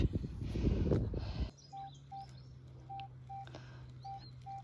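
A loud rustling burst of digging noise at an 1800s ruin, then a steady electronic hum with short high metal detector beeps repeating at irregular intervals.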